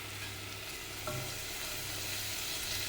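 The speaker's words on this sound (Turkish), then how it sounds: "Soğanlarımı bir miktar kavurduktan sonra içerisine havucumu da ekliyorum." Onions and carrots sauté in a pan for celery soup with a soft, steady sizzle and a brief clack of stirring about a second in. The sound is quiet and close, with no speech.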